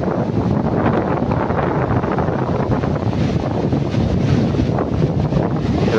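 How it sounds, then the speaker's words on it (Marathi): Sea waves washing onto a beach on the Konkan coast, a continuous loud broadband rush heavily mixed with wind buffeting the microphone, with no distinct individual breakers standing out. "बघा ही लाट आली आहे"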